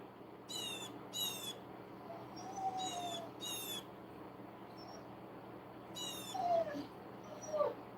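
A dog whimpering and whining in soft, high repeated cries in short bursts, fairly faint against a low steady background hum, with no talking.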